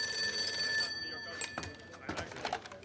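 A telephone rings at Rocky's Bar Grill in the comedy Anchorman: The Legend of Ron Burgundy. A bright, steady electric bell trill sounds first, then fades as voices and clatter take over.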